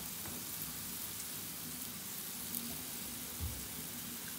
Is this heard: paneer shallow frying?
yes